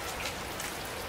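Rain falls outdoors on a chilly day, a faint, steady, even hiss of drops with no other sounds.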